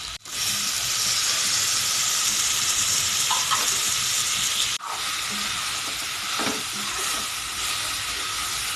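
Pork sizzles and crackles steadily in hot oil while being stirred, a loud, continuous frying hiss with a few soft clinks of the utensil against the pan.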